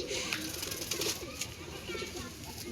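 Pigeons cooing at a loft, soft low calls faint under ambient noise and some background voices.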